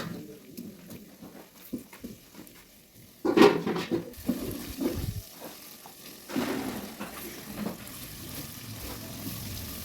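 Spices crackle into hot oil for an eggplant dish, a close, lively sizzle that surges loudly in bursts as ingredients hit the pan, then settles into steady frying.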